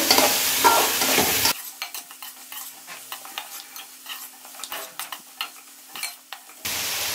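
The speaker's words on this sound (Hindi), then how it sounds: "गरम मसाला पाउडर नमक और अब हम इसको अच्छे से फ्राई कर लेंगे" Mutton sprinkled with garam masala and salt fries for pulao: loud hissing sizzle at first, then a quieter stretch of repeated close spoon scrapes and stirs, before the hot sizzle surges back at the end.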